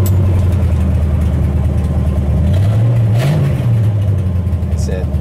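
A 1959 Pontiac Star Chief V8 idles with a loud, steady low rumble close by, its pitch rising briefly in a small rev before settling back to idle.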